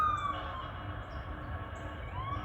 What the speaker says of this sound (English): Blowing his horn, blowing the siren.